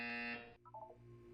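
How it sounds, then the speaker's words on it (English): A loud electronic buzzer from the Portal 2 test chamber sounds alone with steady harmonic tones for about half a second, then cuts off, followed by a few brief, softer chiming beeps. "You will hear a buzzer."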